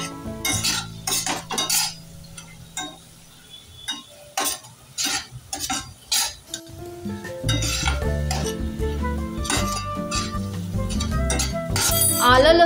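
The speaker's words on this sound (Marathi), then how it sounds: "छान परतवूया." Ginger, garlic and green chillies are sautéed in a pan for restaurant-style chilli chicken, with a spoon repeatedly scraping and clinking against the pan over a low sizzle that grows louder and denser near the end.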